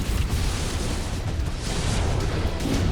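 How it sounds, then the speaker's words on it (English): A big explosion in the MechWarrior 5 mech combat game, a Catapult Ferroblast battle. It is a sustained, loud, rumbling blast with a dense low roar and crackling debris that fills the whole moment, with no talk over it. "That was a big explosion"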